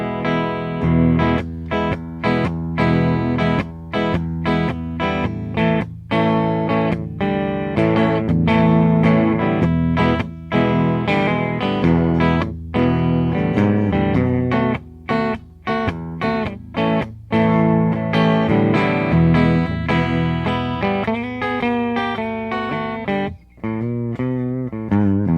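An electric guitar plays clean through an amp set fairly low with no distortion and only a little midrange EQ, strummed chords and ringing notes sustaining loudly in a continuous passage with brief pauses.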